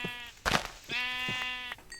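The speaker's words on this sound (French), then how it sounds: "On a encore des moutons, là." Sheep in a video game bleat twice, two clear, wavering cries close by, separated by a short soft thump, with no talking.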